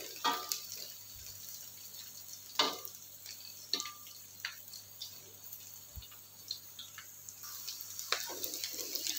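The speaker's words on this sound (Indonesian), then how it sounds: "Minyaknya sudah panas, kita goreng tempenya dulu ya teman-teman" Tempeh slices frying in hot oil in a home kitchen, a soft steady sizzle broken by scattered sharp pops and ticks, faint and close, with no talking.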